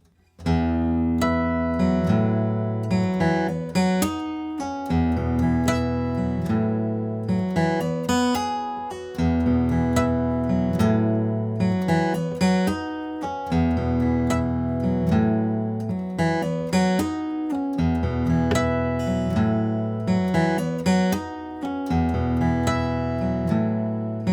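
Guitar playing the intro of a song, a steady run of chords and melodic licks at a constant level for the whole stretch, with no voice over it.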